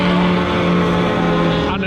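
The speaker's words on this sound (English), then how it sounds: "These are the 1990s 2-litre Super Tourers" 1990s 2-litre Super Touring race cars at Brands Hatch, a loud sustained engine howl held at steady pitch, close and dense, with a brief change at the end.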